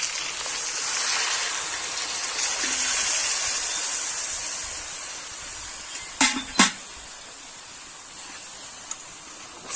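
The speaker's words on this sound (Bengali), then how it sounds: "এবার জলটা দিয়ে দিচ্ছি।" Water poured into a pot of village-style kosha pulao, a soft continuous rushing splash that swells and eases, followed by two sharp metallic clinks near the end.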